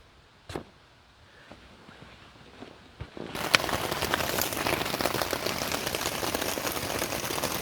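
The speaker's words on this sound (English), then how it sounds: "I think it's raining out now." Rain starts as scattered light taps, then after a few seconds swells into a steady, dense patter drumming on a tent nearby at a backcountry lake campsite.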